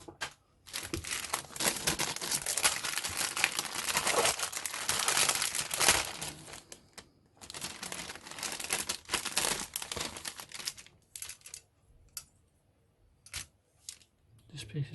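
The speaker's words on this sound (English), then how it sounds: "I do like these resealable bags." A resealable plastic bag holding model kit parts for a Revell 1/48 Heinkel He 111H-6 kit crinkles loudly and close up in long bursts, then gives way to scattered lighter rustles and taps with short gaps between them.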